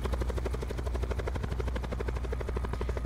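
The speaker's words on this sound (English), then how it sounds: "Helicopter." A helicopter in the video game Call of Duty: Black Ops 4 Blackout thumps with a steady, rapid rotor chop and low engine drone, loud and continuous throughout.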